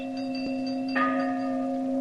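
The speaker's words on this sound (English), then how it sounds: "that's a sound similar to the historic ringing of the Liberty Bell" A large bell, in the style of the historic Liberty Bell, hums with a long sustained ring and is struck a second time partway through, loud and resonant.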